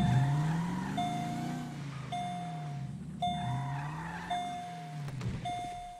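A car in Grand Theft Auto V revs its engine, the pitch swooping up and down as tires squeal in repeated skids at steady intervals, near and fairly loud with no voices over it.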